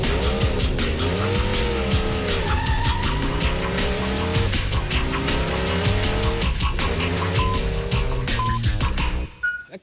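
A race car with a number on its side roars past repeatedly, engine screaming and shifting pitch with squealing tires, loud and continuous before cutting off abruptly at the end.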